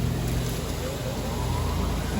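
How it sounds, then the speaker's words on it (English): A Jandy JXI400 pool heater's blower motor runs as a steady, unbroken broadband whir with a low hum, close and constant, with no talk over it. "My blower is on."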